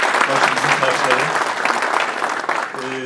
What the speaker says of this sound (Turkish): Sizden büyük alkış istiyorum onlara.